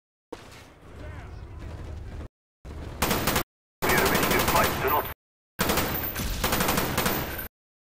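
Rapid automatic gunfire from multiplayer Call of Duty Black Ops, loud sustained bursts broken by short silences, with a player's voice faintly beneath.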